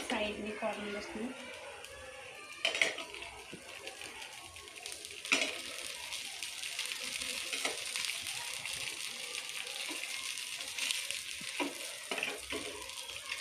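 Cheese dosa batter fries in oil on a hot pan, a steady soft sizzle with occasional clinks of a utensil, while someone talks over it.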